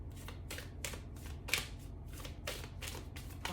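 Tarot cards being shuffled by hand in a series of quick riffling bursts, fairly soft and close, with no talk.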